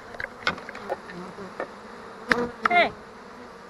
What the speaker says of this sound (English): This is crazy having so many bees fly around your head right now.